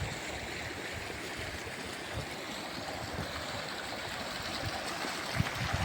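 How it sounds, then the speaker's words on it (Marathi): Floodwater after heavy rain rushes across a road, a steady, fairly loud broadband wash of flowing water that stays even throughout with no talk over it. "बघा पाणीच पाणी, सगळीकडे पाणीच पाणी."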